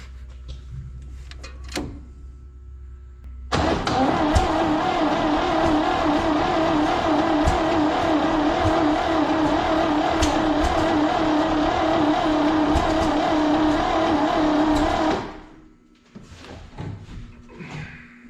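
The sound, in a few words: 1959 Chevrolet Bel Air engine running rough after 20 years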